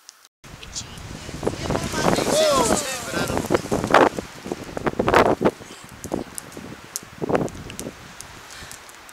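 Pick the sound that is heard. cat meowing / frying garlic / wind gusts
wind gusts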